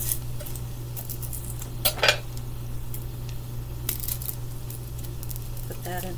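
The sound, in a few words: knife cutting a candy onion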